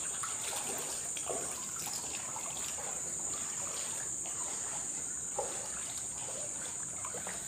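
Steady trickle of water runs continuously through a dark abandoned chapel at night, a soft even wash with faint insect-like hiss above it and no talking.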